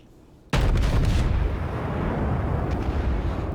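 Naval guns fire from a warship in World of Warships, a sudden heavy boom followed by a long rumbling roar that stays loud throughout, with no talk.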